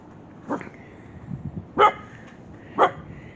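A dog barks in short, loud bursts while a table is being built, three sharp barks spaced about a second apart with quieter shuffling between.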